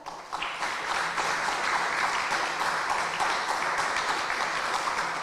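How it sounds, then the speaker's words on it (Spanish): Warm applause from an evening audience at a book presentation, honoring the national dean; steady dense clapping fills the whole stretch at moderate loudness with no talk over it. "para quien pido un cálido aplauso"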